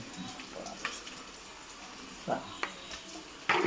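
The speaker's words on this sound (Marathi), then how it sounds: "फोडण्यात आपण मस्तपैकी मसाला टाकलेला आहे." Masala tipped into hot tempering oil with browned onion and garlic for a crab curry sizzles in a steady, close hiss, broken by a few sharper crackles and stirring clicks.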